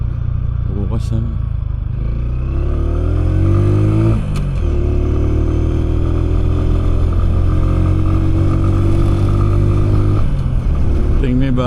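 A newly acquired motorcycle idles loudly and steadily up close, its engine note rising and falling in short revs, with a brief clatter early on.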